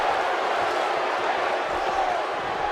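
Wrestling arena crowd cheering, a steady loud roar of many voices with whoops, continuous and unbroken throughout.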